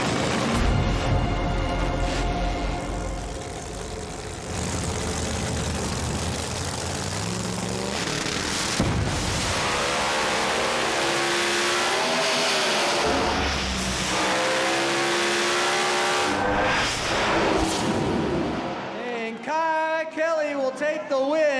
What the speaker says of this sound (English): Battle of the blower cars coming at you right now.